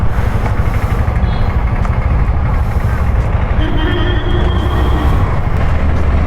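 A Hero Destini 125 ZX scooter rides along a road with a steady, loud rumble of engine and wind, and traffic noise around it throughout.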